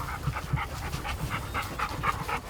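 A Dogo Argentino pants rapidly and rhythmically up close, each quick breath audible in an even series of short huffs with no talk over it.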